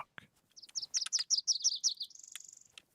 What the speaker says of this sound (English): They're loud birds, are they?